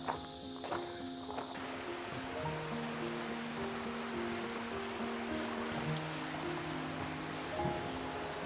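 Steady rushing water of a mountain valley stream near Pyochungsa temple, Miryang, flows continuously, a broad wash of sound with a few faint tonal notes drifting over it and no talking.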